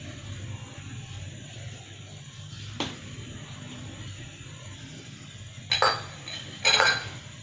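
Tomato, onion and cabbage are stirred together in a bowl for street-style dahi bhalla, mostly quiet with a single clink early on and two short bursts of scraping and clatter near the end.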